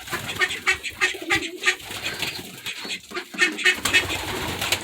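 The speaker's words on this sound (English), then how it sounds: "All kinds of pigeons." A flock of pigeons nearby, repeated soft throaty coos overlapping in an irregular rhythm, with flutters and scuffling among them.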